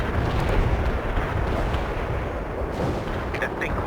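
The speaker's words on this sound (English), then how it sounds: "Commencing the barrage." A continuous rumbling artillery barrage in the video game World in Conflict, dense overlapping booms and blasts filling the whole stretch, loud and unbroken.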